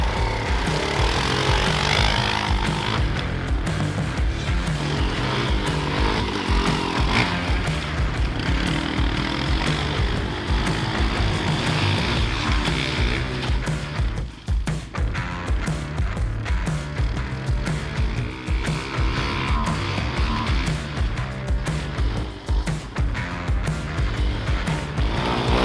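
A dirt bike engine ridden through snow and mud, a loud, continuous, raspy two-stroke-like drone with rapid throttle swells and dips, close to the microphone and running without a break.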